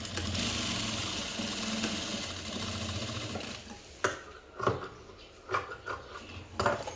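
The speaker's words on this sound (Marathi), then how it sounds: "मी इकडं ब्लाऊज शिवते कस्टमरचा अर्जंट द्यायचा हा ब्लाऊज" A sewing machine stitching a customer's blouse, with a steady mechanical whir running for several seconds, then a few separate bursts of stitching with brief pauses between them, heard close and alone.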